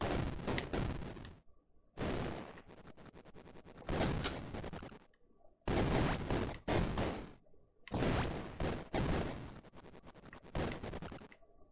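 Rapid gunfire bursts in the video game Desert Child, loud clusters of crackling shots repeating in rhythmic waves with short silent breaks between volleys.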